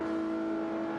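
A GTE race car engine in a racing video game holds a loud, steady high-pitched whine through a bridge section, alone with no talk.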